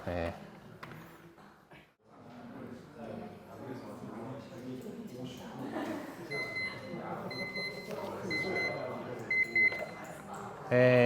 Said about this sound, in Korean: 시간이 다 된 모양입니다. 하나도 오늘 거를 40분 안에 끝내기 위해서 타이머를 돌려놓고